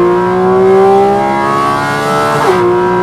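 A Porsche GT4 RS engine winds up toward 9,000 rpm, a loud, high, strained harmonic wail that climbs steadily and then dips sharply as it hits the top, close and alone.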